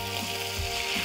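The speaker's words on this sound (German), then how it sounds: "Weil jetzt kommt nämlich die Leber wieder zurück in die Pfanne." Veal liver frying in a pan with pan juices, a steady close sizzle with faint bubbling and no talk.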